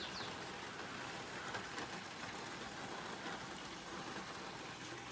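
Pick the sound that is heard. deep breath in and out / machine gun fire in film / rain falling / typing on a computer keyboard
rain falling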